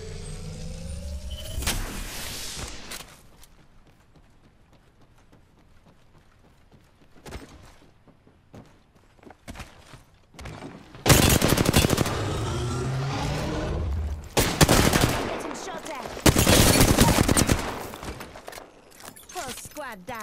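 Gunfire in Apex Legends during a solo-queue Lifeline match in season 8: loud broadband bursts erupt in several clusters, with quieter stretches between them and a voice speaking at times.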